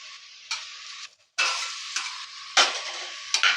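Pointed gourd pieces in poppy seed curry sizzling and frying in a pan as water is added, with bursts of hissing, stirring scrapes and a brief quiet gap, close and fairly loud.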